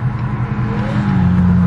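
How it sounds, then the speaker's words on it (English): A brand-new Ford Mustang with a straight-piped exhaust drives by on the road, a loud, rising engine drone with a climbing whine as it nears, close and growing louder, with no talking. "What car's making a noise?"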